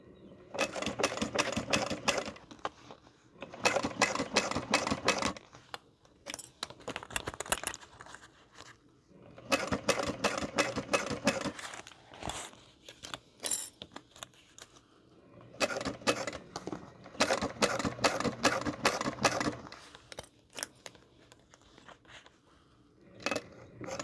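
A sewing machine stitching a zipper into a crossbody bag, running in several rapid rhythmic bursts of needle chatter separated by short pauses, close and clear with no talking.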